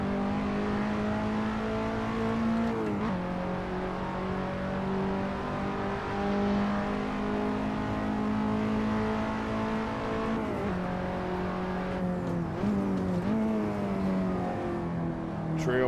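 A KTM X-Bow race car engine at Silverstone GP in a racing video game holds a strong, steady drone, with shifts and pitch dips as it brakes and rolls back onto the throttle.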